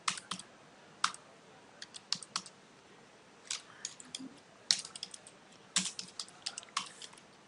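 Keystrokes on a computer keyboard while entering a heading in Marg ERP billing software, heard as short bursts of close, crisp clicks with brief pauses between groups, alone without talk.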